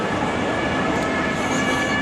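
Emergency vehicle sirens wail through a Berlin street near a local train station, a loud steady tone riding over dense traffic and city noise throughout.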